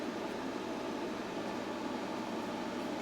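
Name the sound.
weird noise from the fan belt area of a 2001 Chrysler PT Cruiser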